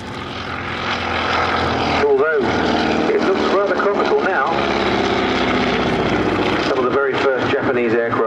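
A Boeing P-26A Peashooter flies at the Flying Legends air show at Duxford, a loud continuous propeller-engine drone with shifting pitch as it passes. A voice talks over it throughout.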